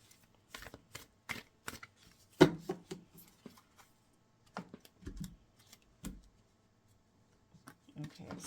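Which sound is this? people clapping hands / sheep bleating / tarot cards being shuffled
tarot cards being shuffled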